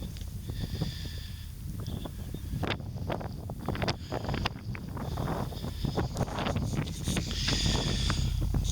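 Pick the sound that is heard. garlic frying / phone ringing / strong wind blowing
strong wind blowing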